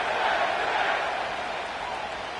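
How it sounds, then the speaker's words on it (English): Stadium crowd at MetLife Stadium in an EA Sports football game, a dense, steady roar of cheering voices throughout, slightly easing toward the end. "The crowd is definitely ready."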